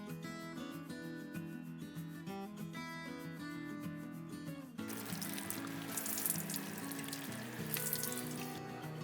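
Music plays, then a stream of water splashes and hisses steadily over soil in a plastic-bottle planter of bell pepper seeds for several seconds, close by.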